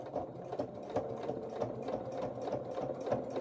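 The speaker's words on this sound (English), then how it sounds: "Now I'm just going to sew down the edge of this pocket," A sewing machine stitches down the edge of a pocket on small doll-sized coveralls, a steady, close mechanical whirr with a fast rhythmic needle thump running the whole time without any talking.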